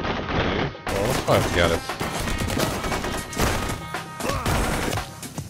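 Rapid gunshots from the Blue Estate shooter game pop in dense, loud clusters over background music, with a voice counting and speaking between the volleys.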